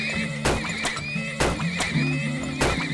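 Horses in the Turmoil video game neigh and whinny repeatedly in loud, close bursts over a steady game soundscape, with faint clip-clop underneath.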